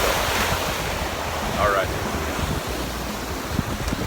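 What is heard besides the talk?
ocean waves and surf at a beach sandbar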